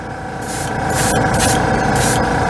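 An airbrush compressor hums in a hobby spray booth, a steady loud drone with faint hissing bursts of spray rising and falling over it, no voices.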